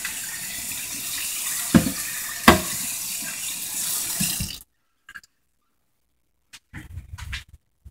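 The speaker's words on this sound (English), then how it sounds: "Give that a good rinse." Emson pressure smoker parts are rinsed under a running tap, a steady loud splash of water broken by a couple of sharp knocks, then the flow stops and leaves near silence with a few brief clatters.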